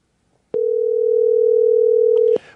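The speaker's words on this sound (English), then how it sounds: "The telephone is ringing." A telephone tone on a call sounds as one steady, loud electronic beep lasting nearly two seconds, alone, with a faint click at each end.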